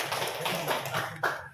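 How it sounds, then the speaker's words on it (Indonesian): Students and teachers clapping together at a school session in a classroom or hall, a dense patter of hands with a louder burst near the end, with no talk over it. "Tepuk tangan untuk semuanya"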